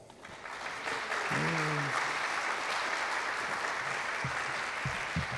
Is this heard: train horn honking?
no